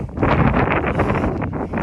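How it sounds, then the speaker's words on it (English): Gusty wind buffets the microphone with a loud, rumbling roar that rises and falls in uneven bursts. "I'll apologize for the wind."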